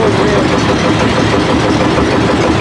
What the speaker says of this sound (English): They got a single-cylinder engine.